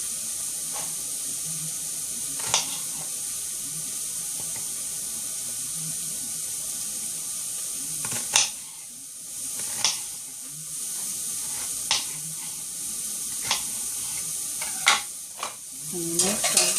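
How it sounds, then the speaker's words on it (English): Vegetables sizzle and fry steadily in a pan while a utensil stirs them, with intermittent scraping clacks and bumps against the pan rising above the constant hiss. "And mix the vegetables."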